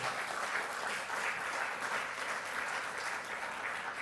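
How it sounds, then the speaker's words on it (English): A room of attendees applauds after Julia's presentation at a talk, an even, moderately distant wash of clapping that holds steady with no voices. "A big round of applause there for Julia"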